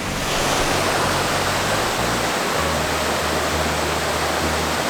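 A waterfall in a jungle-like forest roars in a loud, constant broadband rush, close and unbroken, with no voices.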